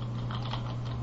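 Keystrokes on a computer keyboard while entering code for a simple web browser program, a quiet, brief run of soft clicks over a steady low electrical hum, with no talking.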